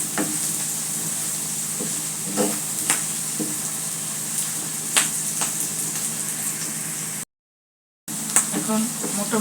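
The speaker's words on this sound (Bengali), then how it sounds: "রসুন কুচিগুলো তেলের মধ্যে ভালো করে ভাজা হয়েছে।" Chopped garlic, onion, turmeric and chili sizzle steadily in hot oil for a kakrol bhorta with dried shrimp, with occasional stirring scrapes and clinks over a continuous close frying hiss, briefly cut out near the end.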